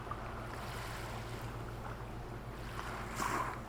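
Waves washing onto a beach along the shore, a steady soft wash of surf with a low rumble and a slight surge near the end, no voices.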